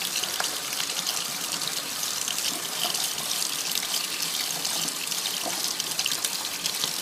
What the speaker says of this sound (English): So I just take a strainer, dump my seeds out into it, and just rinse them out.